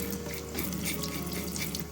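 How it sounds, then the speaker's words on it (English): A kitchen tap runs steadily while freshly scraped trout is rinsed to wash off loose scales, a continuous close splashing hiss of water with no voices. "Running water, you want some running water, wash the scales off."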